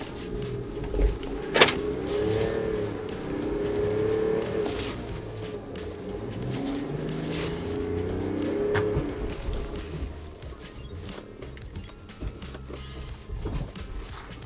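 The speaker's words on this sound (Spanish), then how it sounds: "Voy a abrir un poquito de gas para coger un poco de velocidad." Mercedes G-Wagen W460 250GD diesel engine revving as it accelerates on a slippery slope, a steady droning note rising and falling with wheelspin, loud and close throughout with no talk.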